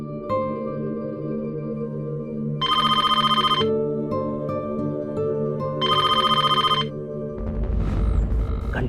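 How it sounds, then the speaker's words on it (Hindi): A telephone bell rings in two long electronic bursts over a steady background hum, followed by a brief low rumble at the end. "घंटी तो बज रही है, उठाने दो फोन बॉस को"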